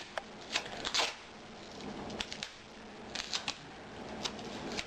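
Tyvek tape pulled and pressed along the edge of a handmade Tyvek envelope wallet, giving close, faint crinkly rustles and short crackling tears in scattered bursts with quiet gaps between.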